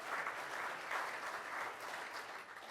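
A round of applause at a Rotary Club of Tulsa meeting, steady dense clapping from the room, fairly faint and even, with no voices over it.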